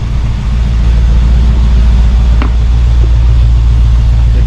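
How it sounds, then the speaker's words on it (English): A 1972 Mercedes-Benz 280 SE 4.5 V8 idles steadily near 1,000 rpm, with a deep, even exhaust rumble heard close up and a brief faint click partway through. "The exhaust note sounds good."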